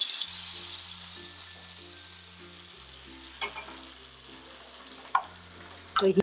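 Hot tempering with curry leaves and asafoetida is poured over chutney and sizzles softly and steadily beneath a sustained musical backing, with a few sharp clatters near the end.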